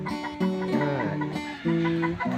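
Close, steady clucking from a red rooster with white-flecked head feathers, in two short phrases with a brief pause between them.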